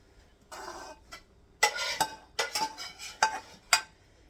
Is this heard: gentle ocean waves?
no